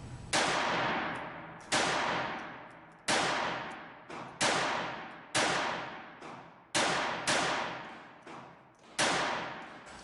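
Eight sharp gunshots from a Walther PP .32 pistol fired at a target 35 feet away, loud and close, spaced about a second apart, each with a ringing decay.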